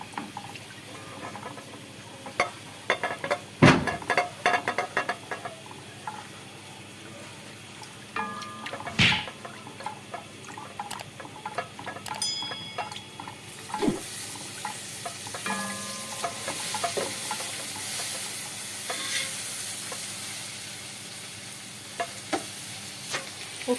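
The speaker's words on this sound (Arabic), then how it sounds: "وفي نفس الوقت مستمرين في تقليب البصل" Garlic and onions sizzle and fry in a pan for Egyptian koshari while a utensil stirs them, with scraping clinks against the pan over a steady frying hiss, close and continuous.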